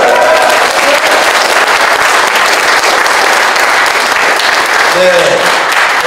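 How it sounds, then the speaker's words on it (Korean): A room of attendees at a political party's founding meeting claps in sustained, dense applause approving the new party name, steady and loud throughout, with a brief spoken reply near the start and another voice toward the end. "다들 찬성의 박수를 해주셨기 때문에"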